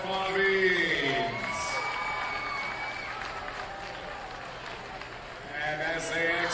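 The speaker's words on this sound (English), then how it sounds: "Let's give another round of applause for this South Summit Bobbies." Crowd applause and cheering fill a high school gym during a South Summit vs Morgan High School boys' varsity basketball game as the South Summit dance team finishes, with an announcer talking loudly over the steady clapping.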